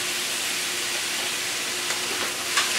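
Noodles cooking in a pan on a home stove give off a steady, even sizzle with faint steam hiss, carrying on without a break and close by, with a few small pops near the end.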